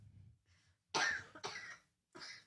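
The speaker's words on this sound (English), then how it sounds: "We're gonna have a soundproof booth just for your coughing." Several separate coughs, close and fairly quiet, with a soft throat-clearing lead-in and breaths between the harsh bursts.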